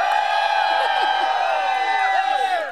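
Crowd at an outdoor street busking concert cheering and whooping in many overlapping sustained voices, loud and continuous, fading slightly at the end.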